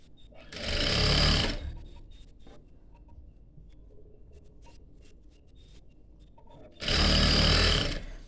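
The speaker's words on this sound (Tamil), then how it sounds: "எலாஸ்டிக் மேலேயே நல்லா இழுத்து தைக்கணும்." A sewing machine stitching stretched elastic in a tailoring class, with two loud close bursts of rapid needle chatter separated by a quieter pause with faint handling noises.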